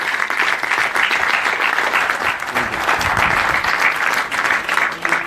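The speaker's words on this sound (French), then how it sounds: "je vous propose que nous puissions tout d'abord les applaudir, ces femmes et ces hommes qui nous permettent de nous réunir cet après-midi" A rally audience applauds the volunteers and activists, a dense, sustained wash of clapping that stays loud and steady from start to finish with no voices over it.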